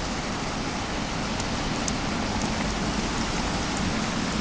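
Heavy rain pounds steadily on neighboring house roofs during a stormy spell, a dense unbroken hiss of drops bouncing off the surface, close and constant with no voices.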